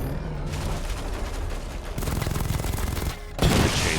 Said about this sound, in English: The chain gun's not powerful enough.